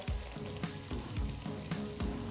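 Green chillies fry in a sautéed masala, making a steady sizzle broken by repeated low thumps and scrapes at a regular rhythm as the mixture is turned.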